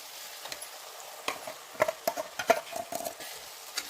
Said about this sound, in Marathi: तेल सुटपर्यंत परतून घ्यायचं